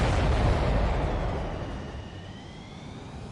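A heavy, rumbling missile explosion in the jet combat game Ace Combat 7: Skies Unknown, loud at the start and slowly fading into a broad roar with a faint high engine whine beneath.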